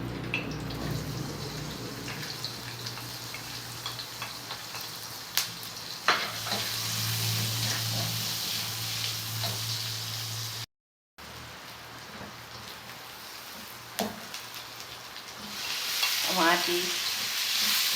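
Garlic, onion and tomato sauté in a hot pan for ginisang ampalaya, a dense rain-like sizzle running steadily, with a few utensil clinks and a brief dropout partway through.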